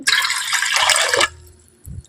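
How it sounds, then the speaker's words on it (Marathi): A loud, rushing pour of water into a pot lasts about a second, then stops, followed by a faint dull knock. "आपण 3 तांबे पाणी तर घेणार आहे"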